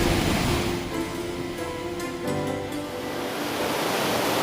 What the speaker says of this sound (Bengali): দেখুন কি ধারায় কিন্তু জল নেমে আসছে